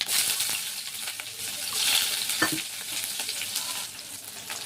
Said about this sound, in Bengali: তেল গরম হয়ে গেছে, আমি এবারে কিছুটা গোটা জিরে দিয়ে দিচ্ছি।